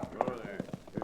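Hooves clip-clop in a radio drama set on the frontier, a quick run of close, rhythmic clops as a marshal's horse slows, with voices talking over them.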